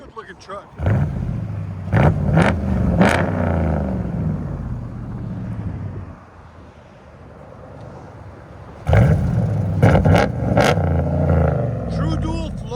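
A RAM 1500 pickup with true dual Flowmaster Outlaw exhaust revs hard, giving two loud bursts of deep rumbling engine roar separated by a quieter idle, close to the microphone.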